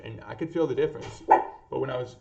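A dog barks a few times at a distance indoors, the barks coming in short bursts under a person's steady talking.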